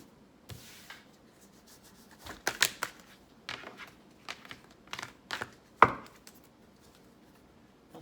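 Tarot cards being shuffled by hand, heard as a quiet run of soft, uneven riffling clicks and rubs with short bursts of card noise and brief pauses between them.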